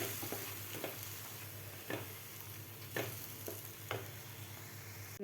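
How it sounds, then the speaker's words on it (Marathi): A pan of raw mango besan pithla being stirred over a medium flame, a soft steady sizzle underneath with a few distinct spoon scrapes against the pan at intervals. "तर व्यवस्थित आपल्याला हे हलवून घ्यायचं आहे."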